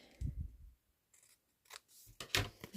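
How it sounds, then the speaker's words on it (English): Scissors snip through paper in a quiet crafting setting, with a few soft, brief cuts spaced apart, close and faint, and no talking. "Just going to cut that because it's not quite."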